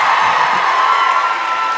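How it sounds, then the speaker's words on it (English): An audience at a Daniel Howell book event in Union Chapel cheers and whoops, a dense, steady wall of crowd noise filling the hall without pause. "Are you just cheering my sense of taste in furniture?"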